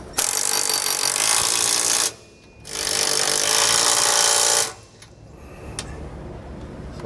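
Power tool tightening 9/16 bolts on a Timbren rear suspension enhancement system, heard in two loud, steady bursts of roughly two seconds each, separated by a short pause, then quiet shop ambience.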